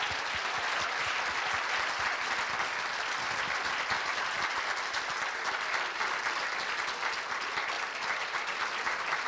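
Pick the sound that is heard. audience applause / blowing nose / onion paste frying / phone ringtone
audience applause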